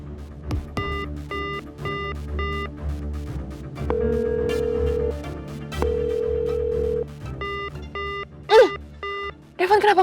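A telephone rings on and off with no answer in an Indonesian TV drama scene, repeated electronic ring bursts with short gaps between them over low background music, and voices are briefly heard near the end.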